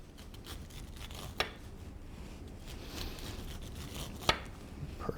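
A knife cuts kernels off an ear of corn, giving faint scraping and crunching strokes with two sharper close clicks against a cutting board, quiet and without talk.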